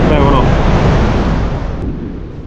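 Strong wind buffeting the microphone while paragliding near Řevničov, a loud continuous roaring rush that stays steady throughout and slowly fades a little toward the end.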